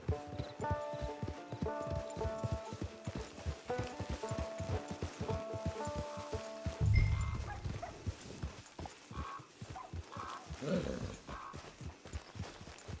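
Hooves from a horse in Red Dead Redemption 2 clip-clop in a steady walking rhythm near the listener, followed by a heavier thud and softer shuffling steps, with brief talk in between.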